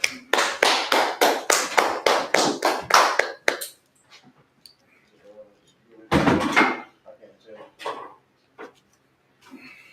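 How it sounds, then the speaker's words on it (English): A small audience at an Israelite question-and-answer gathering claps in quick sharp bursts for a few seconds, close and loud, then breaks off into scattered taps and a brief loud knock, with a voice speaking later. "Clap that up."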